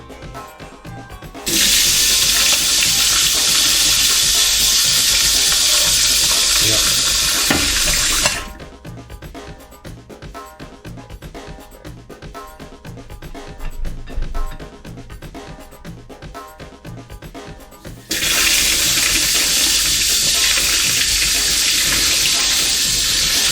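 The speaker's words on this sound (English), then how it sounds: "Just use the same whisk after it's been washed off." Tap water runs loudly into a kitchen sink as a whisk is rinsed off, two long steady rushes of flow separated by a quieter stretch of clinks and handling.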